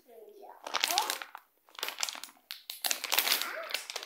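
Wrappers of ginger candy chews crinkle and crunch in close, irregular bursts, with a voice chattering around them.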